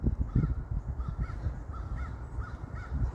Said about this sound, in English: Of course, you can hear the birds, or geese, whatever you want to call it.